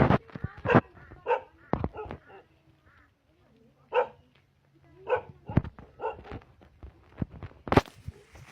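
A dog barks outdoors during a village trip, giving several short, close barks at irregular intervals with quiet gaps between them.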